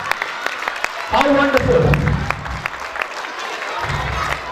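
Audience in a laughter class applauding loudly for about three seconds after a man's brief spoken praise, with clapping fading and then rising again near the end.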